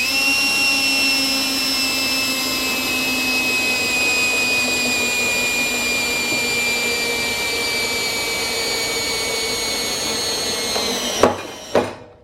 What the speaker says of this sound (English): we're going to spin this for a while until it pops through on its own through the metal